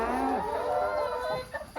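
Laying hens in a henhouse, clucking and crowing nearby; a drawn-out rooster-like call followed by a few short clucks.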